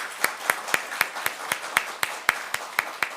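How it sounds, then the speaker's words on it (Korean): Church congregation clapping during a Sunday service, a steady rhythmic beat of about four claps per second, moderately close and continuing without talk over it. "우리 크게 박수로 축하하겠습니다"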